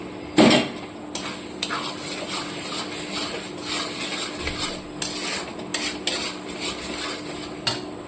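A metal spoon stirs and scrapes a spice paste of turmeric, chilli, cumin, coriander and milk powder frying in a pan for mutton curry, with repeated clinks and scrapes over a steady low sizzle and no talking.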